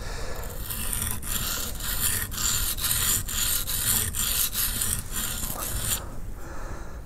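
A skew chisel's bevel is sharpened with steady, rhythmic rasping strokes, about a dozen even back-and-forth scrapes at close range that stop near the end, with no voices.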